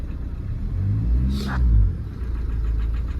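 A Renault Lodgy engine with a defective fuel pump runs close by, its rumbling idle swelling and sagging unevenly in a loud surge near the middle before settling back to a steady drone.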